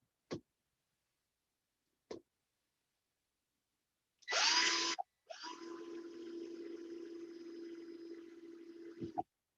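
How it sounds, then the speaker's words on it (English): A power drill bores holes for an RC scale bridge: two short clicks, then a brief high-speed burst, a pause, and a longer steady whirring run of about four seconds that stops abruptly, close and alone. "There we go, all drilled out."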